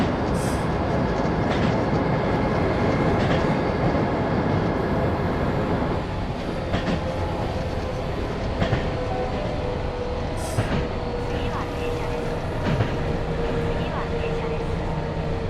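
A train in the Running Train game on an evening mainline service brakes and slows, giving a dense, continuous rail rumble with clicking wheel noise and faint squeals, while someone talks over it.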